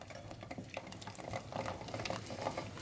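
Fast stirring of a mixture of butter, milk chocolate and vanilla melting together in a pot, with quiet scraping and soft sloshing strokes that repeat steadily in a close, low-level scene without speech.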